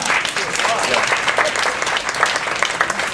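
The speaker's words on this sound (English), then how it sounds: "Give him a round of applause." A short burst of audience applause at a diabetes reversal talk, dense clapping with a voice or two faintly mixed in beneath it.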